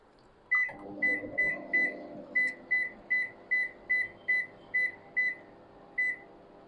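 Microwave oven heating a cup of Knorr kimchi Korean instant noodles: a door thunk, then a steady low hum with a regular chirping beep about every half second, close and clear.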